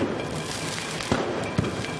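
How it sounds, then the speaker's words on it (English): Fireworks and firecrackers going off during a night of street protests in Kiev, a dense crackling roar of distant bangs with two sharper, closer pops standing out near the middle and end. "Another night of flames and fireworks in Kiev."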